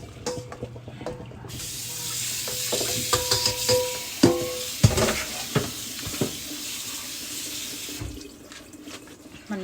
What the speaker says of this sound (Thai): สุกได้ที่แล้วเดี๋ยวเอามาล้างเส้นกัน